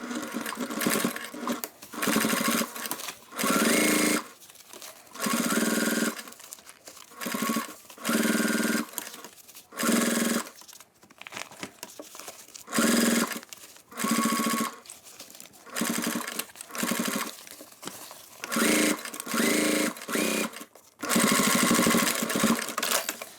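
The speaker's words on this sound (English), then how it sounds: "So what we can do now is we can top stitch." A sewing machine top-stitches a pocket on a bag in a run of short stitching bursts separated by brief pauses. The steady mechanical whirring is close and clear, with no talk.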